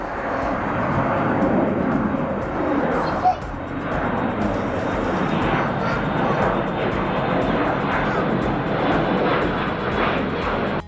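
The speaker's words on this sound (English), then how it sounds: "this is the last airplane of the day" A fixed-wing airplane roars past at close range at a plane-spotting spot in Tulsa, a loud sustained engine rumble that swells and holds across the whole stretch while people talk underneath.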